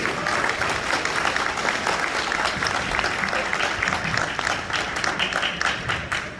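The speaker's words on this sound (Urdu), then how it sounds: "آپ کی بہت ساری تالیوں میں لیٹس ویلکم اقرار الحسن آن اسٹیج" A live event audience in Canada greets a guest coming on stage with steady, moderately loud applause, many hands clapping continuously at medium distance, with no talk over it.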